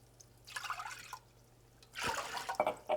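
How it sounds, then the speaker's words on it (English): Water is poured into a cooking pot of rice for Persian rice pudding, giving two close splashing bursts with trickling and dripping between them, faint overall. "adding our rice to the pot and the water and start cooking this"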